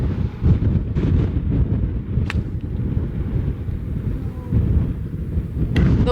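Strong 35 mph wind roars across a golf course and buffets the microphone with a constant, dense rumble. A couple of faint sharp ticks poke through the gusts.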